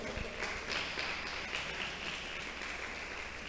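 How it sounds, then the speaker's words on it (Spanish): A church congregation gives a strong round of applause to the Lord, a steady dense wash of clapping that holds evenly throughout, moderately loud and filling the room. "¿Cuánto dan un fuerte aplauso al Señor?"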